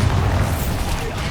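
Booming blast of the Bombarda explosion spell in Hogwarts Legacy, a dense continuous roar of low rumble filling the whole moment, loud and close amid combat noise.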